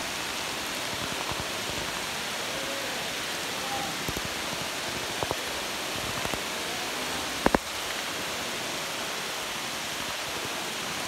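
Steady rain falls in a restricted forest near Dudhsagar during a trek, a dense even hiss of drops with a few sharper near taps and no talk.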